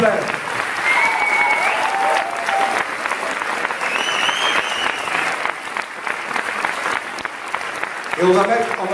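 Audience applause and cheering fill a festival screening hall at L'Etrange Festival, steady and dense throughout, with whoops and shouts rising above the clapping and a voice breaking in near the end.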